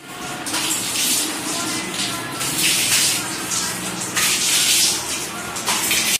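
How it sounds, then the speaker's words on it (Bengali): Running water splashing in bursts as face and neck are washed with soap, close and steady, with surges of spray and gushing. "মুখটাকে এবং গলার চারপাশে ভালো করে আগে ওয়াশ করে নেবো।"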